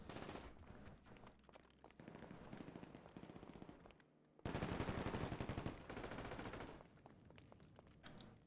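Rapid automatic gunfire from the video game GTA 5 Online rattles in long bursts, briefly pausing before a louder, denser burst and then continuing fire.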